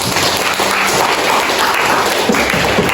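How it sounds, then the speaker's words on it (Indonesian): Loud, dense clapping from a high school class in a classroom, a continuous wash of applause filling the room for several seconds with a faint voice underneath. "Tepuk tangan untuk semuanya."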